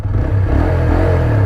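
A TVS Apache RTR 160 4V motorcycle engine revs in neutral close by, a loud, steady throbbing roar with slight rises in pitch and a mechanical clatter, no voices over it.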